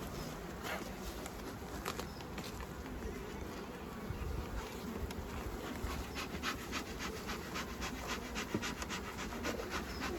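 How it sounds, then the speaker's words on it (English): Honey bees buzzing around an opened hive in botanical gardens, a dense continuous outdoor drone with crackling handling noise, steady and close throughout. "This is where we're going to need a bit of smoke. There's going to be bees everywhere in a minute."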